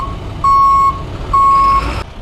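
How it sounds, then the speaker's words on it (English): A bucket truck backing up on a street job, its reversing alarm sounding two long, loud, steady beeps over a low idling engine rumble. "Right now he's getting that bucket truck in just close enough."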